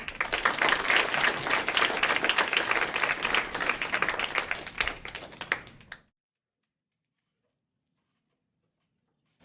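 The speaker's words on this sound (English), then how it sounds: "Can we give a round of applause?" A crowd breaks into sustained, dense applause that fades after about six seconds, followed by silence.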